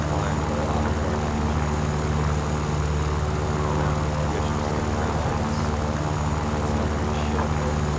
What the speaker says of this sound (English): I'm getting out the only other bomber I've got.